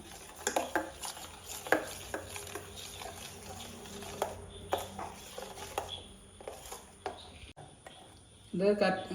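Soap base, neem leaves and scented oil being stirred together unheated in a container, with repeated close clinks and scrapes of the utensil against the vessel in an irregular rhythm, sometimes under a quiet voice.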